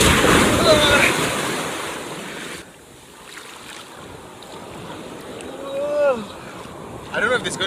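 Philippine Sea surf on a white sand beach, a loud wash of waves and wind buffeting the microphone that drops to a quieter rolling hiss, with brief voices over the water.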